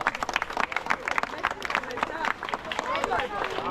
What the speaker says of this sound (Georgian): გოგოებს განსაკუთრებული ტაში